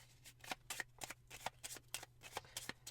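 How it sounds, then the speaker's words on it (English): Playing cards for the tabletop game Count of The Nine Estates are shuffled in a quick run of rhythmic riffling bursts, close and fairly quiet, with no talking. "give it a shuffle."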